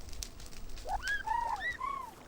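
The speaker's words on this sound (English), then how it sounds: "You can always hear those chocobos. They're really loud." Chocobo creatures from a Minecraft magic modpack chirp in a series of short, rising and falling bird-like calls, several in quick succession, moderately loud over a quiet game background.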